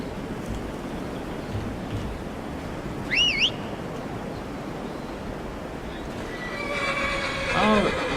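A horse in the game Skyrim lets out a single wavering whinny midway through, heard over steady cold wind-like ambience, with another faint equine call near the end.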